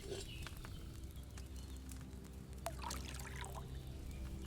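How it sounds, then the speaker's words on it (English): Wine pours into a pot in Kingdom Come Deliverance II, a faint liquid trickle and splash under quiet ambient game sound, with a few soft clinks. "Pour the wine."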